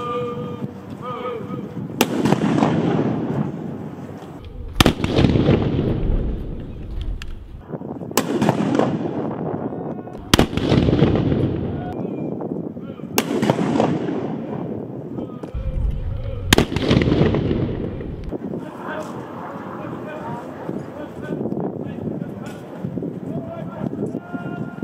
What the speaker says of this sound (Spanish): recién acaba de terminar la demostración del rifle